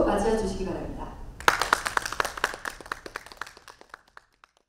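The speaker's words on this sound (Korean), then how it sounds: "여러분, 힘찬 박수로 맞이해 주시기 바랍니다." A conference audience at a corporate CSR event applauds to welcome a speaker, a burst of clapping that breaks out after spoken introduction and then thins to scattered claps before fading out.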